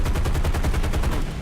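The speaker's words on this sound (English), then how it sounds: "And I know they are taking shots at me" Sustained burst of rapid automatic gunfire in a flight combat video game, loud and dense with regular fast repeating shots filling the whole moment, no voices.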